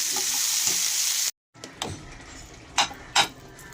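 Pumpkin, sweet potato, green banana and drumstick pieces frying in a pan, a steady close sizzle that cuts off briefly, then resumes with a few sharp stirring scrapes and clinks.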